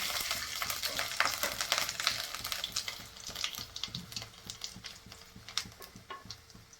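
Cumin seeds and garlic frying in hot oil with mustard seeds for a radish vegetable dish, crackling and sizzling steadily up close with sharp pops and spatters.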